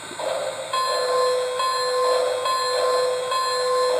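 A steady electronic bell from an American Flyer Polar Express toy train rings in a repeating pattern, clear and close, with a faint mechanical hum beneath and no voices.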